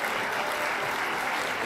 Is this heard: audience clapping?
yes